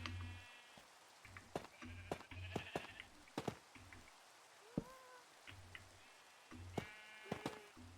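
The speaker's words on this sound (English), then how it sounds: "That sheep need to go." Sheep bleating in a video game, several short bleats scattered over a steady background patter, at moderate loudness with no talking.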